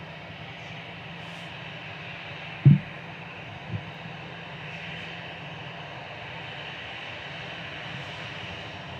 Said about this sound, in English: EasyJet Zoe LVG to Barcelona.